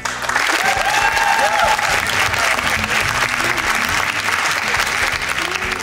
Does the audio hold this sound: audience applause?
yes